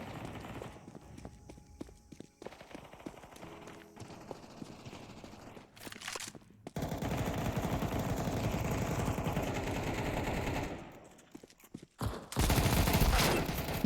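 Counter-Strike gunfire: bursts of rapid shots in a noisy stretch mid-clip and again at the end, amid quieter game ambience and footsteps.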